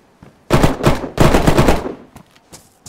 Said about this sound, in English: This guy's shooting me!